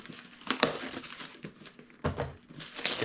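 Tough plastic packaging on a new product box is peeled and pulled apart, giving irregular crinkling, crackling and crunching bursts close up, with no talk.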